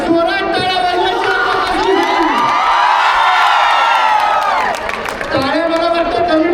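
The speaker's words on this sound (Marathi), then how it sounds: "आपण जोरात टाळ्या वाजवायच्या." Large crowd at a bullock-cart race event in Chiplun roars and cheers continuously, with whoops and some clapping, loud and close throughout.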